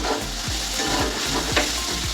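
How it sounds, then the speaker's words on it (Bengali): Sliced bitter gourd sizzles as it fries in a pan, stirred with steady scraping strokes about twice a second over the constant hiss of hot oil. "একটু নাড়াচাড়া করে একটু ভাজা ভাজা করে নেবো, লাল লাল করে একটু ভেজে নেব।"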